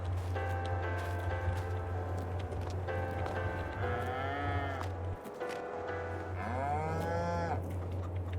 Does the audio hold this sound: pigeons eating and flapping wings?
no